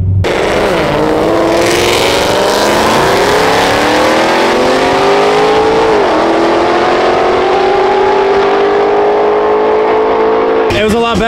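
A naturally aspirated Corvette C6 Z06 launches hard from a standstill in first gear, its engine roaring very loud and close as the pitch climbs steadily, with a brief dip before rising again.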